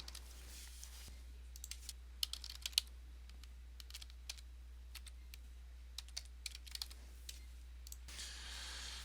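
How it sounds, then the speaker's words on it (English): Account details being typed on a computer keyboard: quiet, irregular clicks and taps in short bursts over a steady low hum, close and faint. "That's going to let me go ahead and type in my account information."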